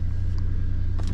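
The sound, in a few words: 1997 Toyota 4Runner engine idling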